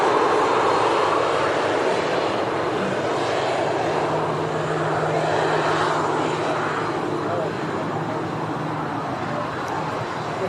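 An airliner taxies at Manchester Airport, its engines giving a loud, steady, broadband roar that fills the whole stretch without a break, with a voice speaking over the noise.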